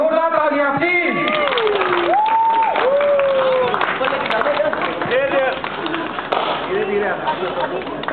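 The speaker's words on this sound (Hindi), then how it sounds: "जोरदार तालियां प्लीज" Wedding guests clap and cheer for the bride's entry at a themed wedding event, a dense crowd sound under loud music with melodic tones and voices over it.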